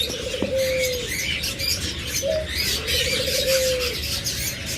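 A pair of pet lovebirds calls with short, tonal whistles, three or four spaced notes over a constant background of other chirping birds.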